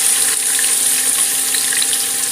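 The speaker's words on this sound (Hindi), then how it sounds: "ये मैंने तेल डाल दी। अब इसमें प्याज डाल देंगे हम।" Onions tossed into hot oil in a pan for a stew give off a loud, steady, close-up hiss of frying that stays even throughout, with no voices.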